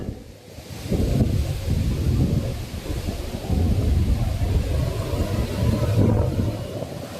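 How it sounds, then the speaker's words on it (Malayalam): Water rushes down over rocks in a steady, loud, broadband roar that swells and ebbs slightly, close to the microphone with some wind buffeting and no talk. "ആ മുകളിൽ നിന്ന് വെള്ളം ഒഴുകി വരുന്നുണ്ട്"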